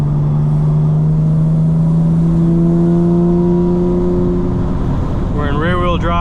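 A fully modified 2025 BMW M4 Competition xDrive with valves open and burbles on pulls away on the highway, a loud droning exhaust note that climbs and warbles into a rising rev at the end, with low talk beneath.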